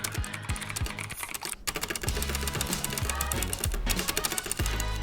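A clicky Typhoon MK12 mechanical keyboard is typed on rapidly and continuously, each switch giving a bright, sharp click, with a short lull near the middle and heavier thocks from larger keys, all up close.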